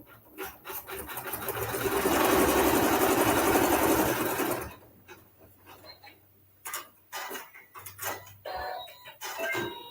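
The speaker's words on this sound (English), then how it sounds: "you're going to let the embroidery machine stitch your seam" Embroidery machine stitching a fabric seam, a rapid rhythmic mechanical whir building for about four seconds before stopping, followed by quiet handling taps and brief soft talk.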